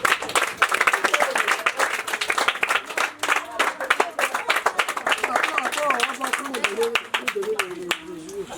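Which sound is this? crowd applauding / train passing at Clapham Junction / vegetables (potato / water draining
crowd applauding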